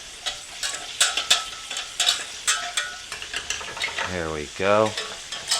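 A roux of flour stirred in a pan over a gas flame, scraping strokes repeating in an uneven rhythm over a soft sizzle, close and clear, with a brief spoken phrase near the end.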